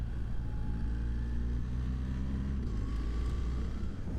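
A BMW R 1300 GS Adventure motorcycle engine runs steadily at close range, a low continuous rumble with a slight rise in pitch as it revs and pulls away, with no talking over it.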